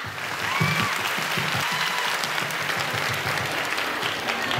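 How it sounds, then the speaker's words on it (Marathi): An audience at a stage event with a dance performance claps loudly and continuously, a dense, close, steady round of applause with no talk. "सगळ्यांनी जोरात टाळ्या वाजवा"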